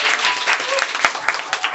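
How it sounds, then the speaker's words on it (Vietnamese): A live audience at a Vietnamese televised singing talent contest bursts into dense, sustained applause after a contestant's song, loud and continuous with a few sharper claps standing out near the end. "Vỗ tay các bạn ơi."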